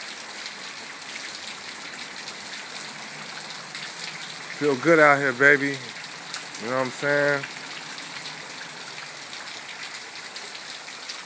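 Steady, gentle rainfall hisses throughout, with someone speaking briefly in the middle over the patter.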